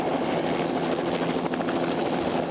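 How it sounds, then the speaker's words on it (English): A helicopter in flight, carrying crews inspecting high-voltage power lines, heard from inside the cabin as a loud, steady rotor and engine roar that continues without a break. "We flew in this helicopter"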